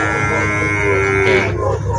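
A water buffalo from Bicol gives one loud, close, drawn-out moo at a livestock auction market in Lucena, Quezon, over a steady crowd and machinery hum.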